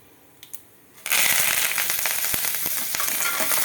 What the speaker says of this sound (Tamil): இப்போது கருவேப்பிலை சேர்த்துடலாம்